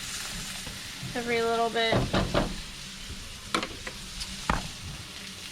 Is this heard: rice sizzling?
yes